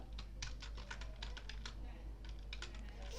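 Someone types on a computer keyboard while coding in Python, producing quick, fairly faint key clicks in irregular bursts over a low steady hum, with a voice briefly audible.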